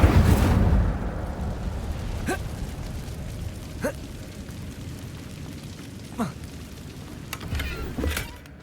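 Incendio fire spell cast in Hogwarts Legacy inside a cave: a whooshing burst of flame at the start, then several short crackling fire bursts over low ambient rumble.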